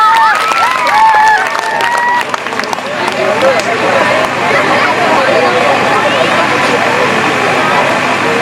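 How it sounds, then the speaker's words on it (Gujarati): An audience at a school annual function applauds children on stage with dense, loud clapping and crowd noise. Voices and chatter at the start give way to sustained applause. "તાળીઓ પાડીને પ્રોત્સાહન આપો બાળકોને થોડું."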